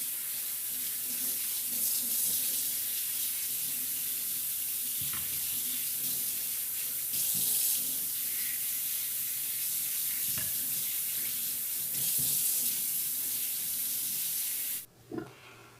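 Steady loud rush of tap water pouring over peeled potatoes being washed, continuous and close with slight shifts in the splash, cutting off abruptly near the end.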